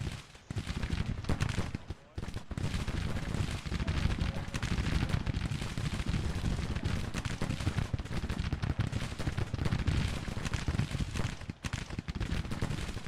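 Skirmishers' musket fire in the Grand Tactician Civil War battle game, 1863, a continuous dense crackle of distant volleys and rumbling battle noise.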